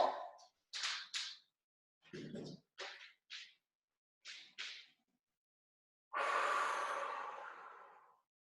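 A long, slow breath out during a sophrology relaxation session, one soft airy exhale close to the listener, preceded by several short bursts of quiet speech.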